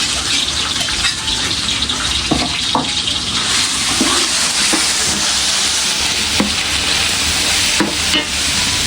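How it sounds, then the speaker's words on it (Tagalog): Ground meat browning in a pan over sautéed garlic and onion gives a steady, loud sizzle, with scattered scrapes and clacks of a utensil stirring through it, close up and with no talking. "Akin na pong ilalagay po itong ating giniling po na karne."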